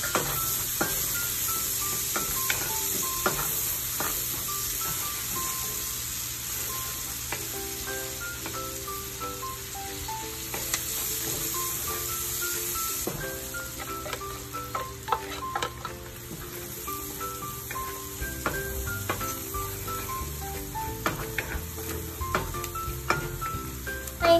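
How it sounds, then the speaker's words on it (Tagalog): Onion and garlic sauté in a pan for a creamy mushroom chicken dish, giving a steady close sizzle throughout. Frequent ticks and scrapes come from stirring, and there is no talking. "isaute na natin yung onion and garlic"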